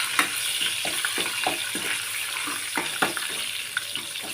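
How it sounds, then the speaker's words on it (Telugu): Tempering spices hit hot oil and sizzle loudly and steadily, with short rhythmic crackling bursts close up and no talking. "ఆయిల్ కాగింది. పోపు వేసేసుకుందాం."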